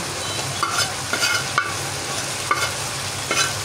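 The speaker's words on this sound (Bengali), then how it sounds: "কড়াইতে ঢেলে দিয়ে আমি আবার অনেকক্ষণ ধরে ভাজতে থাকবো।" Beef tripe frying in a pan, a steady close sizzle with a spoon scraping and stirring at irregular intervals, no voices.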